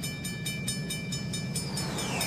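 Rhythmic clickety-clack of a cartoon train rolling steadily over a rickety bridge with a rumbling low hum, with a faint whistle-like tone sliding near the end.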